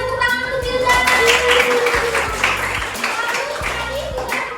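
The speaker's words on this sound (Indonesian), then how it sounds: "Benar, tepuk tangan untuk Hilda." Children in an elementary school classroom clap in short bursts between a teacher's speech.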